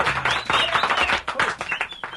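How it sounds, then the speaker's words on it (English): Studio audience on a morning radio show breaks into applause, a dense, steady wash of many hands clapping up close that holds for about two seconds with no voices over it. "y'all give a big round of applause for special guest filling in for the brat this morning"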